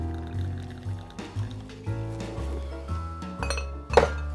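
Bloom London Dry gin is poured into a glass at close range, with a gurgling trickle, soft clinks of glass and a brighter clink near the end.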